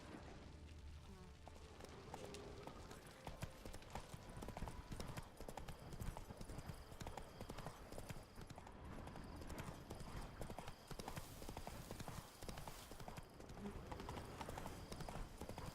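Geralt's horse Roach gallops in The Witcher 3, a fast, steady clip-clop of hooves, close and loud throughout, with some game sounds and brief talk over it.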